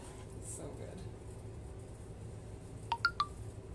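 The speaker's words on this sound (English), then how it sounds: "I think someone is texting me 50 million times." A few short electronic phone notification beeps in quick succession near the end, faint against a low background hum in a home kitchen while cooking mushroom risotto.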